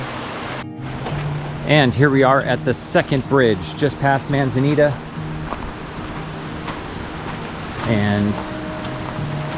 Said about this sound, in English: it's kind of loud because we're next to this awesome creek